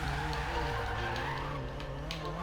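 Tires skid and squeal through a drift in the Forza Horizon 3 racing game, a steady engine drone holding underneath with slight rises and falls across the whole stretch.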